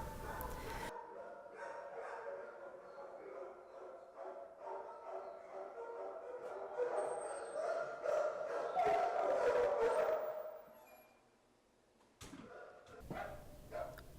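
Several dogs barking and yipping in an animal shelter's kennels, with overlapping excited barks building to a loud stretch before a short lull and a brief return.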